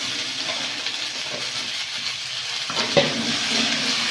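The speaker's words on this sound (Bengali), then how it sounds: "দিয়ে ভালো করে কষিয়ে নেব।" Kohlrabi and potato with ginger paste sizzle steadily in a pan of fried onion, a broad hiss with soft stirring scrapes and a sharper clack near the end.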